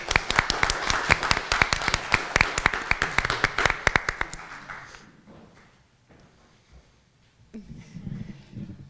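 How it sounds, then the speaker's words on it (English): An audience at a women's leadership symposium closing session applauds for about five seconds, with dense claps that fade out, followed by near silence and then faint voices and movement. "Let's give Tiffany a round of applause"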